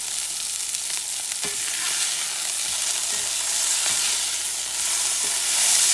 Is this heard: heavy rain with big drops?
no